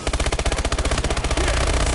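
Rapid automatic gunfire in a video game, loud and close, a steady stream of evenly spaced shots that blur into a dense continuous roar near the end.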